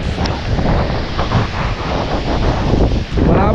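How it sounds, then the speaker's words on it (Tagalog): Strong typhoon wind under signal number 4 roars steadily and loudly against the microphone, a dense continuous gusting rush with no let-up. "Lakas ng hangin"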